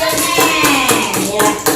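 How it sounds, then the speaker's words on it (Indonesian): Children in a classroom clap together in a quick, steady rhythm, with several sharp claps close by and a faint voice underneath. "Tepuk tangan hebat."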